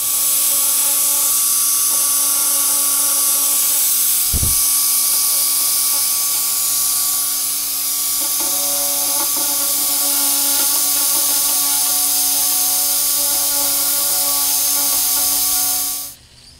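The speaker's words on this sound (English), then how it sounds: "we can flip it over and go ahead and do the welding on the back side" Steady high whine of a plastic welding tool working the back side of a plastic part during a repair, continuous and close for about sixteen seconds, with a faint click partway through before it cuts off.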